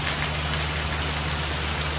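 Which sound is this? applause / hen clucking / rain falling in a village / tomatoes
rain falling in a village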